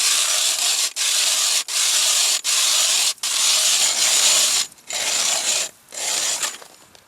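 An ice auger bores a fishing hole through lake ice in steady grinding bursts, about eight of them, each cut off by a brief pause, loud and close with no talking.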